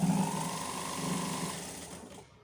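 A sewing machine stitching a fabric sleeve runs with a fast, steady mechanical whir and needle rhythm close to the microphone, slowing and stopping near the end.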